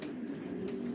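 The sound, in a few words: breeding birds cooing in the stud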